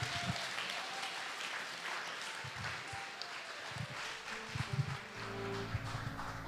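Steady audience applause at a startup pitch event carries on throughout, a close, even wash of clapping hands with a few louder thumps near the end.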